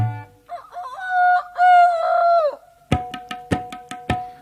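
A rooster in a children's song crows once, a long, clear, drawn-out crow, followed by a run of sharp, rhythmic percussion beats from the song's music.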